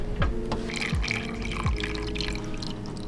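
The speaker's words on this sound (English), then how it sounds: "I fill up the water." Water running from a tap into a water bottle, a continuous close splashing fill with a few rising pitch sweeps as the bottle fills, no voices.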